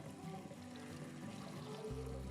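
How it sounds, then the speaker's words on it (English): Cold tap water runs steadily over fish fillets being rinsed in a kitchen, a soft continuous pour and trickle heard close by and fairly quiet. "I'm just rinsing them under some cold water."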